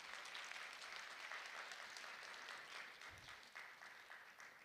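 An audience at an international science festival applauds steadily, a dense wash of many hands clapping that holds fairly even throughout and tapers slightly toward the end, heard from within the hall at a moderate distance.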